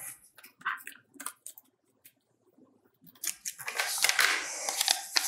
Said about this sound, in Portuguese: Agora só é cortar.